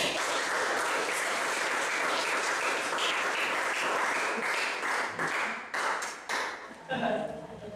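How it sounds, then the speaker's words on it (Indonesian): Applause for the first student group in a classroom, a dense patter of many hands clapping that keeps up steadily, then breaks into scattered claps and fades toward the end. "kita berikan aplaus untuk"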